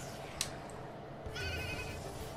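Goat-like creature in the video game Nexomon Extinction bleating once, a short faint wavering cry over a quiet game background.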